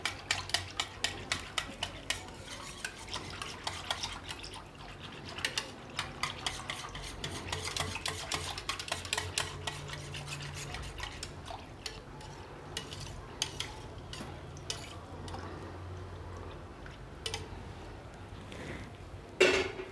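Rice is stirred and mixed in a pot for jeera rice, with a spoon scraping and tapping repeatedly in a quick irregular rhythm, close and fairly quiet, over a faint background hum.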